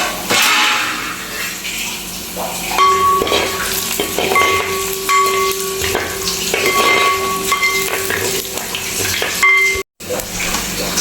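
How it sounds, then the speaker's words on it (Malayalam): Dried red chillies fry in hot oil for a soybean pickle, stirred steadily in the pan. A loud continuous sizzle runs with scraping stirs and a few clinks throughout, broken by one short silent gap near the end. "നമുക്കൊന്ന് ഇളക്കി കൊടുക്കാം."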